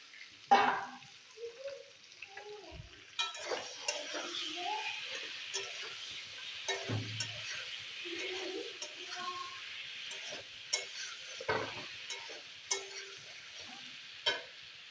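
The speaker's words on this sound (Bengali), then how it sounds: "বেগুনটা আগে ফ্রাই করে লই" Eggplant frying in a pan sizzles steadily, broken by repeated scraping and stirring knocks from a spatula and occasional clinks. Brief murmurs of voice sit under the cooking noise.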